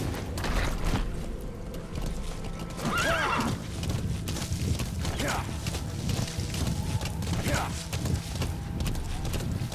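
A horse in the video game Metal Gear Solid V: The Phantom Pain neighs several times over steady clip-clopping hooves, with a voice talking over the sound.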